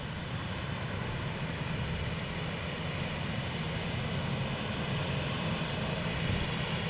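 Planes on final approach at Seattle-Tacoma International Airport give a steady, broad jet engine roar that holds evenly throughout, moderately distant with no voices.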